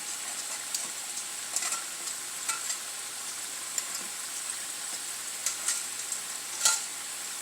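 Garlic sizzling in a pan over medium heat, a continuous fine crackling hiss heard up close with occasional small pops and faint stirring taps, no one talking.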